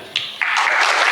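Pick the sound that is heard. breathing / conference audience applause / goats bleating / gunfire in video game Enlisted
conference audience applause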